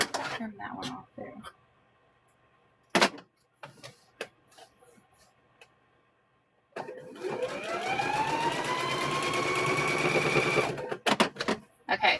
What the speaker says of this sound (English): So we're gonna get this one sewed.